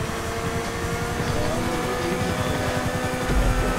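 A video game car engine held at high revs, a loud continuous motor drone with a slight buzzing rattle and no speech.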